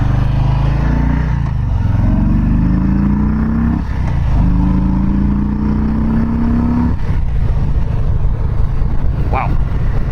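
A first-year Harley-Davidson Softail Low Rider 107 motorcycle pulls hard through the gears, its engine note climbing in rising sweeps with a brief shift break, loud and close throughout.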